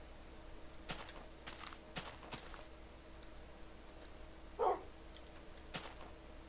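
A single short yip from a pet dog in Minecraft, faint and distant over a quiet background of soft ticks and footstep-like clicks.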